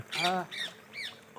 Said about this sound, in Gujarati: પોપટ ક્યાં બોલે